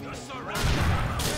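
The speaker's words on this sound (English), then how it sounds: "that's a bit of a few explosions there" Heavy, rumbling grenade blasts in GTA IV burst out and overlap, a loud booming roar that swells midway and keeps going to the end.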